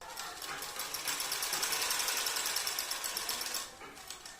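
A sewing machine stitches a size 52 bra, running at a fast, steady needle rhythm close by for about three and a half seconds before it slows and stops.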